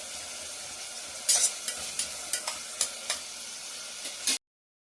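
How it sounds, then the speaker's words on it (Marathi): Onion, tomato, and green and red chilies sauté in a pan for rasam rice, making a steady hiss of frying punctuated by a series of sharp spatula clacks before the sound cuts off abruptly. "छान परतून घ्यायचं आहे. यातच आता हिरवी मिरची आणि लाल मिरची टाकली आहेत आपण."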